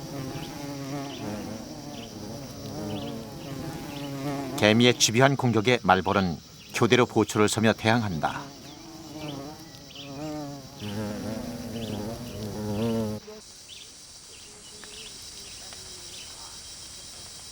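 Wasps fighting off Azteca ants in a tropical forest, a persistent insect buzz with stronger bursts of wingbeats in the middle, heard under steady narration.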